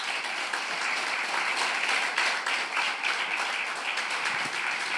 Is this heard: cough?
no